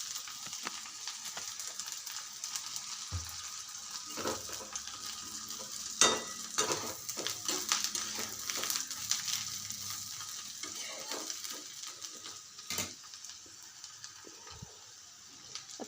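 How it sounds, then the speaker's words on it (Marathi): Onion roasting in oil in a pan makes a continuous close sizzle broken by scraping stir strokes and a few sharper clatters, with no talking. "आता कांदा भाजायला वेळ लागतो"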